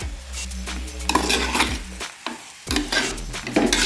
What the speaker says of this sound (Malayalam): ഇനി നമുക്കിതിലേക്ക് കഴുകി വെച്ച ചെമ്മീൻ ഉണ്ടല്ലോ അത് നമുക്കിതിലേക്ക് ഇട്ട് കൊടുക്കാം ഇത് നന്നായി ഒന്ന് മിക്സാക്കി എടുക്കാം